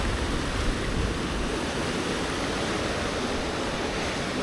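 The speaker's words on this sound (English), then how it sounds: "So the water's a little strong right now though." A strong current on the Fox River rushes past rocks in a steady, dense wash of water, close and continuous with no break.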